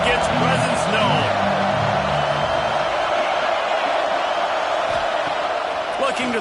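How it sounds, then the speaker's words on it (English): Crowd noise in a packed college football stadium during Longhorns vs Tigers, a steady dense roar of many voices that stays loud throughout, with a voice speaking over it early on. "This crowd ready to make its presence known."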